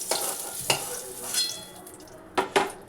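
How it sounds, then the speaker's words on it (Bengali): Nigella seeds crackle in hot oil for a potol (pointed gourd) curry, with a bright sizzle and several sharp spoon-on-pan clinks close by. "কালো জিরে ফোড়ন দিয়ে দিলাম।"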